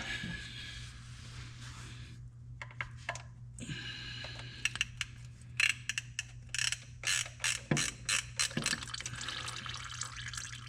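A socket ratchet clicks in short, irregular bursts while undoing the last valve body bolt on a Subaru Legacy transmission, close and fairly crisp over a steady low hum.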